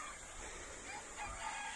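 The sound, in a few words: local chicken chicks chirping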